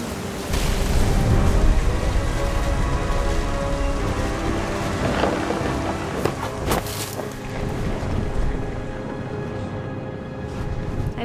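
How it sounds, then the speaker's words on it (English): Heavy rain pours through a stormy scene in the game What Remains of Edith Finch, a dense hiss with deep rumbling thunder swelling early on and a few sharper cracks midway, steady and loud with no talking. "Thunder sounded much too close and full of angry power."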